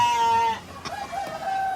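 Breeding hens in a coop give a few drawn-out clucking calls, loud and close, with no talk over them.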